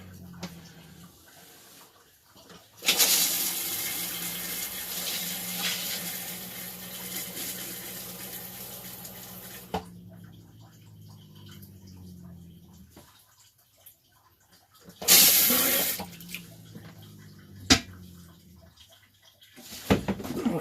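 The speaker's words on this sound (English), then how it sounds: "Oh, here's some water running somewhere." Kitchen sink tap in an RV running water, a steady rush that starts after a quiet opening, stops, then returns in a brief louder burst with small clanks.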